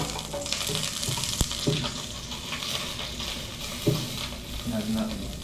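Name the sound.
garlic sautéing in cooking oil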